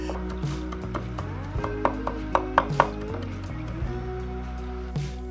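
Parsley being chopped with a knife on a board, a run of fairly faint, quick taps clustered in the middle, heard over a steady low hum and soft background tones.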